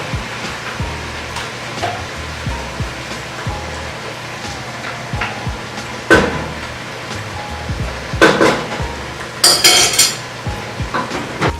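Utensil stirring sweet potato and butter in a pot on a stove set to high, with scattered scrapes and clinks, a few louder knocks and a brief sizzle-like burst near the end, close and without talk.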